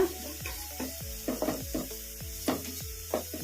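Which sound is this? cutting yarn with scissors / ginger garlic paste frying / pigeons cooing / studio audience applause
ginger garlic paste frying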